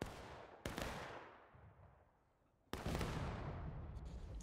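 Gunfire in War of Rights: two sharp, loud musket-style volleys about two seconds apart, the first decaying into a fading echo and the second trailing into sustained crackling shots and battle noise.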